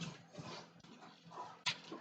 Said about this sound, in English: gotta check out my dog. She's up on the window.